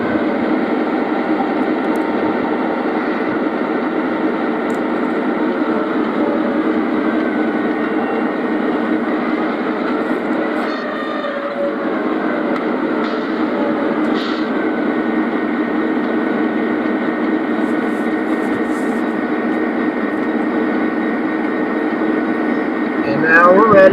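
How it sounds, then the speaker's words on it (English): An O gauge model SD38 diesel locomotive runs along the track to couple with an SD40, giving a steady, loud, continuous motor hum and rumble throughout, with a faint clank midway and a louder burst at the end. "The SD38 will leave and is now going to couple up to the SD40"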